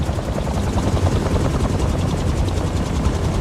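Helicopter rotor in the Spider-Man 2 video game, a steady loud whirring drone with rapid rhythmic chopping throughout, broadband and continuous with no pauses.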